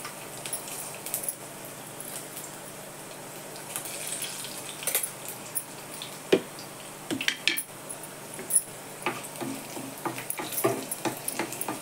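Mustard seeds and garlic sizzling in hot oil for a tempering, a steady broadband crackle with scattered sharp pops and light stirring clatter throughout, close and moderately loud, no talking.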